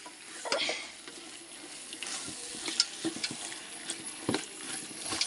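Biryani meat being stirred in a pot over a wood fire, with intermittent scraping clicks and soft sizzling over a quiet, steady background, spoon strikes spaced irregularly through the clip.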